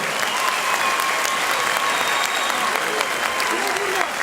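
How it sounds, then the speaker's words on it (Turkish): Applause from an audience at an Erzincan association cultural gala in Istanbul, a steady dense wash of clapping that holds evenly throughout, close and loud. "Şöyle vallahi güzel bir alkış gelir değil mi?"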